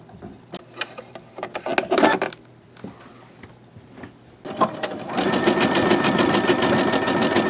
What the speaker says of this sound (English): you're going to stitch all the way around to this corner